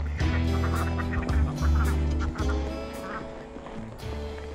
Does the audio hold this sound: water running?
no